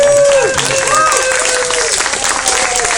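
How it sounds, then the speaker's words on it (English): An audience at a political rally applauds its hosts with loud, sustained clapping, and crowd noise and overlapping voices mix into the dense ovation. "Please, a big round of applause for our hosts who worked so hard."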